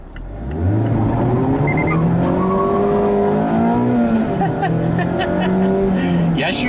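A 2021 Mazda Miata Grand Touring with a limited slip differential accelerates hard as the driver slides the tail out, its engine note climbing and holding loud and close, with a brief tire squeal near the start.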